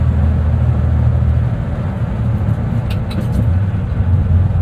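A manual 1993 Ford F-150 with an inline-six engine braking on an off-ramp gives a loud, steady low drone inside the cab, with road and wind roar underneath and no talk.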